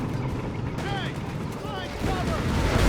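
An artillery barrage in the WWII strategy game Company of Heroes 3 hits Panzer Pioneers. A rolling series of booms and crashes plays at moderate loudness, with a faint voice partly underneath.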